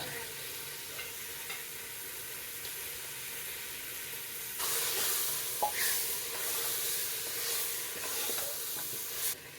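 Half a kilo of chicken fries in a pot for a one-pot chicken biryani, a soft steady sizzle that swells louder partway through as it is stirred, with a few clinks.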